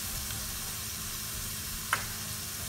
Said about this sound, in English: I'm going to deglaze it with a little butter.